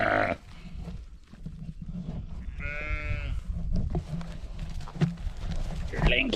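Sheep and lambs bleat on a ranch, one clear wavering bleat rising mid-clip among other faint animal calls, with someone talking and farm background noise throughout.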